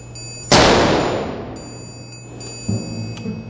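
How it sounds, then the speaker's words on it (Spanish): A single loud gunshot rings out and its echo decays over about a second, followed by a faint mechanical clatter. "Un solo disparo, amigo Mandril."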